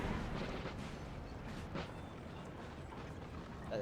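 Russian artillery guns fire in a Napoleon Total War 3 battle: a dense, continuous rumble of cannon fire with occasional sharper booms, heard at a distance as a steady roar.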